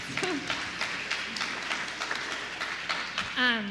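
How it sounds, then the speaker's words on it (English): A congregation applauds the children at a Sunday service, moderate clapping running steadily under a murmur of voices, with one voice rising briefly near the end. "So one more round of applause for the kids."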